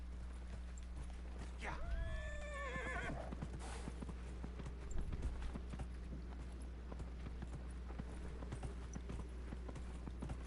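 A horse in Dragon Age: Inquisition gives one loud, quavering neigh near the start, followed by soft clip-clopping hooves and a low steady hum.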